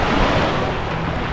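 Steady sea surf washes onto a beach in Malta in September, a continuous loud roar of breaking waves with wind buffeting the microphone and no voices.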